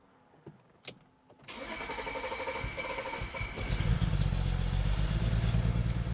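BMW E92 335i with the N54 engine and leaking injectors cranks after a couple of clicks, then catches and runs with a rough, chugging idle that rises and settles into a steady, louder run, heard up close.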